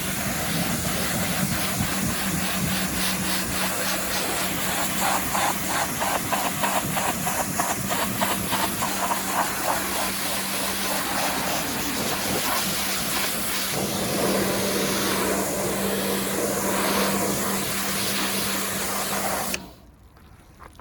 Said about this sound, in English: all I'm going to do is hit it with a pressure washer